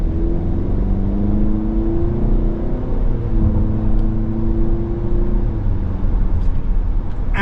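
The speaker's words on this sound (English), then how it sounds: "I feathered the gas in because it's a new engine, but this Turbo 4 gets the job done." A 2024 Cadillac XT4 Luxury AWD with a new turbocharged four-cylinder engine accelerates gently, its steady engine drone rising in pitch over several seconds, heard loud and close from inside the vehicle without talk.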